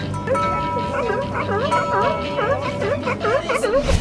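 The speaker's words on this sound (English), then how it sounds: "Up close and personal with the sea lions now." Sea lions at Redondo bark in a noisy chorus of repeated, rising-and-falling calls close by, overlapping one another steadily over a murmur of background voices and crowd noise.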